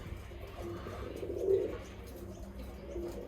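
Birmingham Roller pigeons coo softly inside a loft, one low murmuring coo rising briefly near the middle over a faint background hum.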